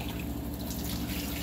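Rice grains rinsed in water by hand in a bowl, a continuous wet swishing and trickling close by, steady for the whole moment with no talk.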